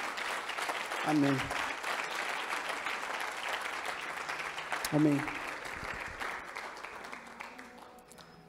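Church congregation applauding Jesus during a Portuguese-language sermon, steady crowd clapping throughout, with someone briefly speaking over it twice.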